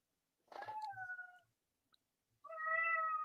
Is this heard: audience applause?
no